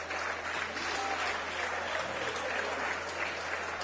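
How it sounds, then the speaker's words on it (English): Crowd applause fills the hall at a squash championship final, a dense, steady roar of clapping that holds at a constant loud level throughout, with no voices cutting through. "A big applause for Simon Rosner."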